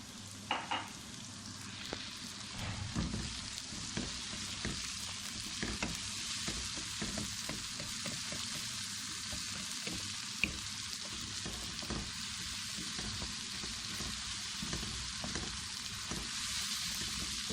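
Continuous sizzling of ginger-garlic paste frying with onions in a hot pan, with intermittent scraping and stirring clicks against the pan throughout.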